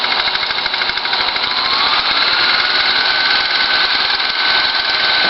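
A 1950s Apollo Synchro 8mm film projector runs at its middle starting speed, giving a steady, loud mechanical whir with a fine rapid flutter that holds unchanged throughout, with no voices.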